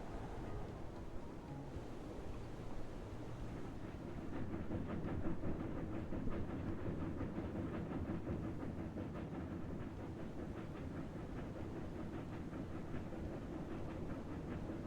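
A train from the Railroad Corporation 2 video game rolls along the rails with a steady low rumble and rapid clickety-clack beats, holding an even, moderately loud level throughout.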